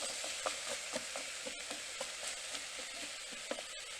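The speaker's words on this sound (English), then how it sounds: "just give it a really good stir" Butternut squash with nutmeg sizzles steadily in an Instant Pot while being stirred, with soft scraping strokes recurring under a continuous close frying hiss, no voices.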